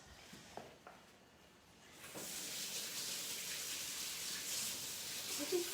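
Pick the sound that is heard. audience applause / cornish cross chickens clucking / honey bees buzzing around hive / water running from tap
water running from tap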